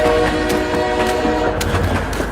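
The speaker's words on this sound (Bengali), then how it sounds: "এই ট্রেন আসছে" A train approaches along a rail line, rumbling loudly and close by, with a sustained horn tone over the steady rolling noise.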